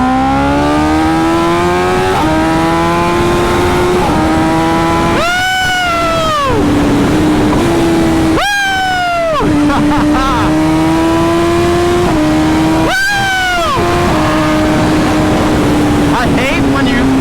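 A 2025 BMW S1000RR motorcycle engine drones steadily while riding, rising in pitch through the gears, with three sharp upshifts that briefly cut and then rebuild the revs, loud and continuous throughout.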